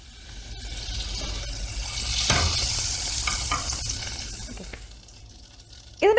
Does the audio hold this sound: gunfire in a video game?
no